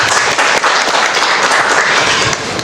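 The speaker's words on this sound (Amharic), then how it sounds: "ሱመያ ትንሽ አጨብጭቡላት እስኪ።" Enthusiastic applause from an audience at an event in Ethiopia marking a human hair brand's new ambassador, dense, steady clapping filling the whole stretch at close range without talk.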